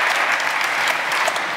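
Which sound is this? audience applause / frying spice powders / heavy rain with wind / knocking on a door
audience applause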